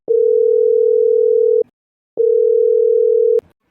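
Phone ringback tone from an unanswered call: two long, steady electronic beeps, each about a second and a half, separated by a short silence, clear and close with nothing else heard.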